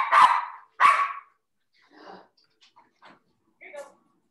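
A pet dog at home, excited by a garbage truck going by, lets out two loud, close barks in quick succession, followed by a few faint, scattered small noises.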